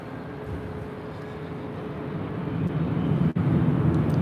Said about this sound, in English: Rolling down to 24 left, United Express, SkyWest Flight 5591, heading to Fresno in the C-175 LR.